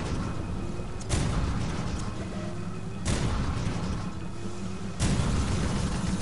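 Heavy gunfire and booming blasts in the video game Switchblade, three loud broadband bursts roughly two seconds apart over a steady rumbling battle din, with no talk.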